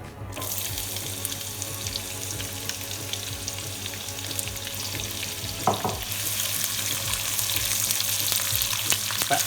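Sliced onions fry in a pan for achari chicken, giving a steady sizzling hiss that grows slightly louder. Occasional faint clinks and stirring sounds come through over a low background hum.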